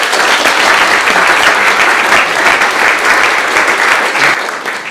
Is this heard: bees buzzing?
no